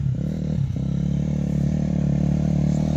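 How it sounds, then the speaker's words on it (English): A dirt bike on a wooded trail gives a steady, close engine drone with a brief dip in revs early on, then a continuous running note. No one speaks. "He's getting pretty dang good on this bike."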